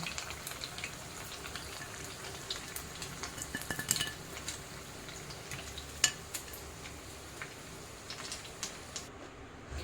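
Barnyard millet medu vada deep-frying in hot oil, a continuous bubbling crackle with scattered sharp pops and light metallic clinks of a utensil against the pan.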